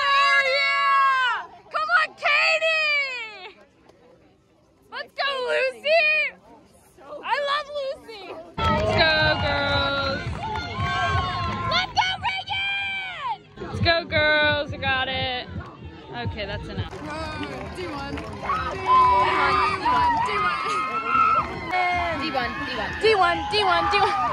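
Spectators at a cross country race call out and cheer for passing runners, their excited voices close by and rising and falling in bursts over general crowd noise and nearby chatter.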